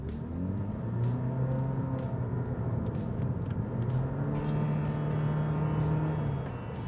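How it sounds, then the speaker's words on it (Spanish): A Lexus GS accelerates hard onto a fast road, heard from inside the cabin as a rising engine drone that climbs through the gears in steady sweeps, with road rumble beneath. "Vamos a hacer una aceleración, vamos a incorporarnos a una vía rápida para que veáis la potencia que gestiona este coche."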